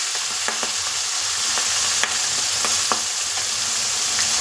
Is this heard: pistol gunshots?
no